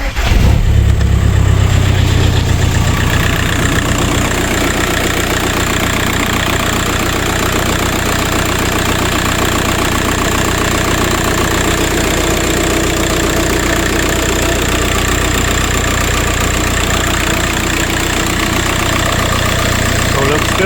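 A VW Passat TDI diesel engine starts up after a turbo replacement and settles into a steady, loud clattering idle that carries on evenly for about twenty seconds.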